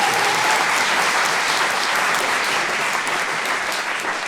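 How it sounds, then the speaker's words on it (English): Audience applause just before a theatre trial scene from Shakespeare's The Merchant of Venice, a loud, dense, even wash of clapping sustained throughout. "Actors love to get applause before they act."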